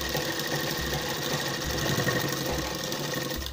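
Sewing machine stitching a line over an attached fabric strip for designer shorts, running steadily and fairly loud with a continuous mechanical hum and a subtle low rhythmic thump throughout.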